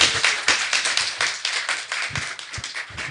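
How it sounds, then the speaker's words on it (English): An audience at a women's empowerment forum in St. Kitts claps for the panelists. Individual hand claps stand out clearly and close, irregular and a little scattered rather than a dense roar. "Give them another round of applause."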